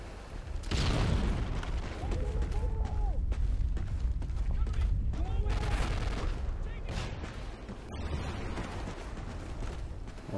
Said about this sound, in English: Let's just chuck a grenade there